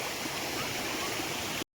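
Stream water diverted along a channel toward a village watermill in Uttarakhand, a steady close rushing and gurgling flow that cuts off abruptly at the end, no voices.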